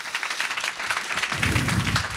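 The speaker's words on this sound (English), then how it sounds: "je vous demande d'applaudir nos speakers internationaux" A conference crowd at an international SEO round table applauds its international speakers, a dense wash of clapping that swells and grows fuller toward the end.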